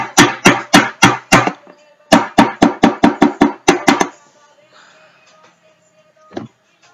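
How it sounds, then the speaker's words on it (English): Homemade deodorant is scooped and tamped into a container with a series of sharp, rhythmic taps in quick bursts, loud and close, then a quieter stretch ending in one last knock. "I'm just right now scooping it in and just tamping it down each time I do"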